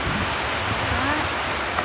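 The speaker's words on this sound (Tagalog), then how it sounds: "At tignan nyo ang lakas ng ulan." A downpour of heavy rain makes a loud, even wash of noise throughout, steady and unbroken from start to finish.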